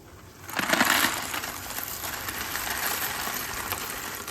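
Dry penne pasta tumbles into a pot of boiling water with a brief rattling rush, followed by a steady, soft bubbling hiss that continues to the end.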